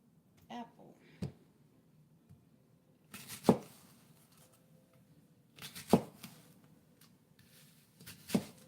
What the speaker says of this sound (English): Now we're going to get ready to chop up our apple.